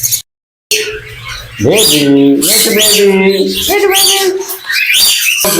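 Pet birds call at a bird market: loud, close chirps, squawks and gliding whistles come in quick overlapping bursts, with one short silent gap near the start.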